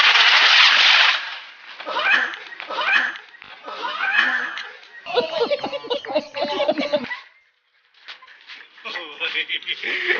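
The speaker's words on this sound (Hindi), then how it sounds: "ये वाला अनार है, इसको लटा के जला दें, देखते किस डायरेक्शन में जाएगा" An anar fountain firecracker burns during Diwali cracker testing, opening with a loud rushing hiss followed by broken crackling and fizzing bursts. Voices and laughter run throughout.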